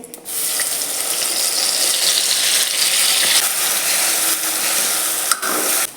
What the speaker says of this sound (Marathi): मी आता हे तेलामध्ये टाकायचं तर चला हा मसाला तेलात घालते